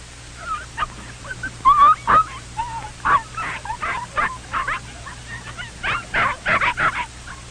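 Several small puppies yip, whimper and bark in quick, uneven bursts, close and fairly loud, over a low steady background hum.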